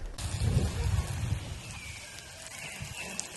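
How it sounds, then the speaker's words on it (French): Water splashing and pattering steadily onto garden soil while potatoes are watered, a dense rain-like spray that starts abruptly and continues evenly, slightly heavier at first. "Je vais arroser maintenant et puis on aura fini avec ça."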